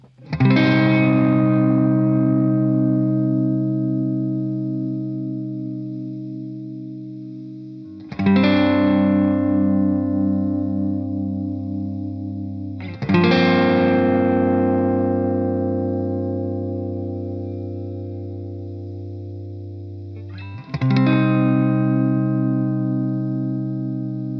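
Four strummed guitar chords through a Behringer UV300 vibrato pedal at a slow rate ring out and slowly decay, each wavering with a slow, gentle pitch wobble.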